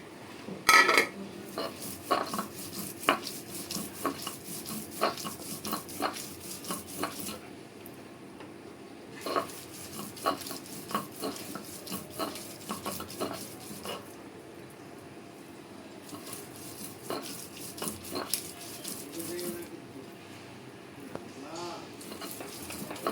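Onion, garlic and chili are ground on a traditional grinding stone, giving irregular scraping, knocking and clacking strokes at close range, with occasional speech over the work.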